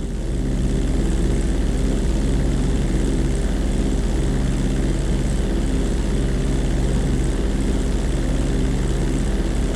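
Fixed-wing aircraft taking off in Grand Theft Auto 5, its propeller engine droning at full throttle with a loud, steady, dense hum and rumble that holds unbroken the whole way through.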